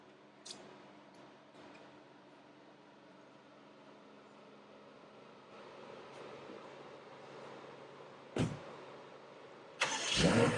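A 2021 BMW F95 X5M fitted with 22/23-inch Hamann wheels sits quietly idling with a low steady hum, then a sharp starting burst and a louder rising engine sound as it pulls away.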